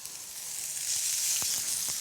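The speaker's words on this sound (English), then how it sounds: "You want to hear it sizzling." Bright, steady sizzle of food frying in hot oil in a pan, close and continuous, with a couple of faint clicks.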